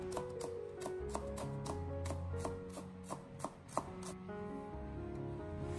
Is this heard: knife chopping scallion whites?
yes